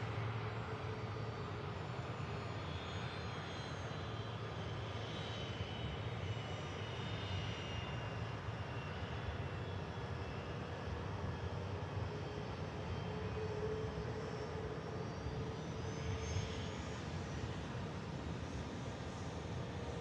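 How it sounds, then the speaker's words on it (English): An Airbus A380 airliner lined up for departure at Manchester Airport gives a steady, distant jet engine rumble and whine that holds evenly throughout, alone without voices. "380 lined up as well for departure"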